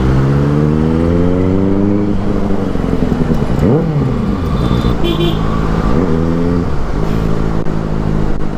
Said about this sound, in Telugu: full traffic jam